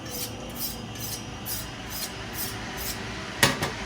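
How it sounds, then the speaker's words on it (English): A kitchen knife is drawn along a sharpening steel in a few light, evenly spaced scraping strokes. The strokes end with two sharper metallic rasps. "the last thing you want to do is just run it on the steel a couple times"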